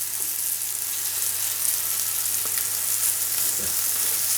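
Salmon frying in a hot pan as the heat is turned down, giving a steady, even hissing sizzle with a few soft pops and no talk.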